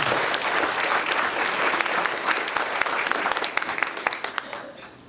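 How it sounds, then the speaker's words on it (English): Audience applause during a mayor's 2017 State of the City address: dense, full clapping from a large crowd that thins toward the end into scattered individual claps. "Let's give them a round of applause."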